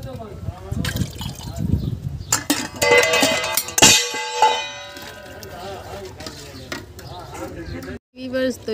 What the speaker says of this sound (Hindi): मैं इसमें पानी शामिल करने लगी हूँ